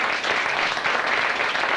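An audience applauds steadily, a dense wash of many hands clapping at a moderate distance with no pauses or voices.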